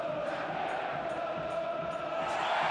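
A distant home crowd cheers and roars at a 1995 Champions League football match between Borussia Dortmund and Rangers, making a steady swell of massed voices that holds throughout and builds slightly toward the end.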